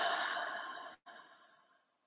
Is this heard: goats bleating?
no